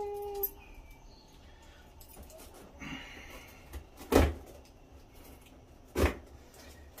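Cardboard box being handled and opened, with scattered rustles and two loud close thumps as the flaps or contents are moved, no talk.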